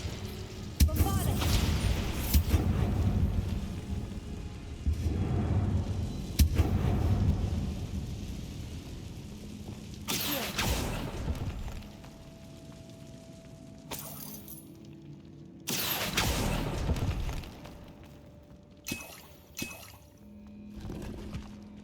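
Repeated magical blasting-spell explosions in the Hogwarts Legacy video game, heavy booming bursts recurring every few seconds with rumbling decay, loud and close, mixed with other spell effects.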